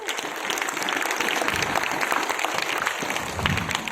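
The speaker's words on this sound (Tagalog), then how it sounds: "Kayo po, kayo pumapalakpak." An audience at a motivational talk claps steadily, a dense, even wash of applause sustained for the whole span, with a voice faintly audible underneath.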